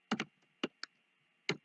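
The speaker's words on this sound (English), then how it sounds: "I will start typing here" Keystrokes on a computer keyboard while entering a forecast in a financial spreadsheet: a quick double tap, then three isolated clicks spread out over under two seconds, close and crisp against a quiet room hum.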